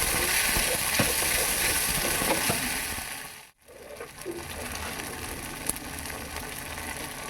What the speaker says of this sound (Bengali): এগুলোকে আমি ভালো করে ভেজে নেব।